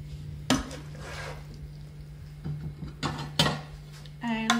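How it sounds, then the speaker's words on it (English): A serving spoon clinks and scrapes against dishes while food is plated, a few sharp separate knocks over a low steady hum, with a brief voice at the end. "Now we get to grab our serving spoon"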